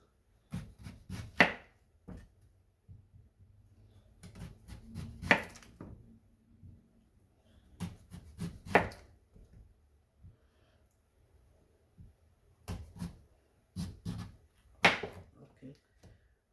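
A knife slices a yam into rounds on a board, with sharp chopping knocks in quick clusters of three or four, separated by pauses. Close and crisp, with a voice speaking quietly between the cuts.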